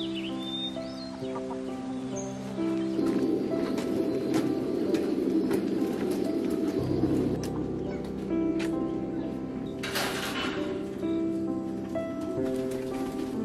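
Pigeons on a farm coo softly in low, repeated throaty calls under continuous nearby speech, with a rustle of birds and other farm fowl in the background.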